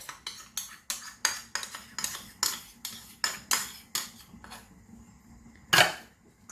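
Yogurt going into a tangri kabab chicken drumstick marinade, heard as a quick series of sharp spoon clinks and taps against a bowl, about a dozen evenly spaced knocks, then a louder final clatter.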